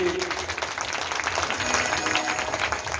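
Clapping from the audience at a Bhagavat Katha religious gathering, moderately loud and steady for a few seconds, with some crowd noise mixed in.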